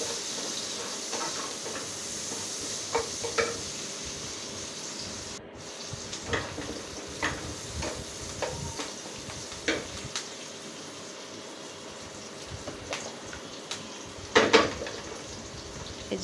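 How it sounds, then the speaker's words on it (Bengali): Shrimp frying in a pan with onion and green chillies gives a steady close hiss, broken by scattered crackles and sharper pops throughout. "মাখিয়ে নিয়ে এবার চিংড়ি মাছটা ভাজি করতেছি। চিংড়িটা ভাজা হয়ে গেলে এবার আমি পেঁয়াজ আর কাঁচামরিচ দিয়ে এবার আরও কিছুক্ষণ ভেজে নিব।"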